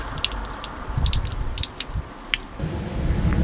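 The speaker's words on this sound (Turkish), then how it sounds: "Topladığımız erikleri yıkıyoruz." Spring water runs over freshly picked plums as they are washed outdoors, a steady close splashing flow with scattered drips, no voices.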